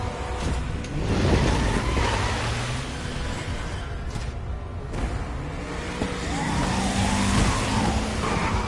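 A car driving off in the video game Resident Evil 2, with loud, continuous engine noise that surges and revs, a brief skid-like squeal mid-way, and no talk.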